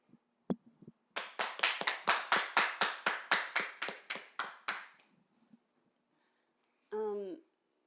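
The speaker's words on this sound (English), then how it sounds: "I think they deserve a big round of applause." A single pair of hands claps about a dozen times in a steady, close rhythm for a graduating class of 2020, then stops; a short voice sound follows after a pause.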